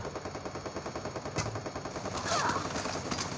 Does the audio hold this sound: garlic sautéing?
no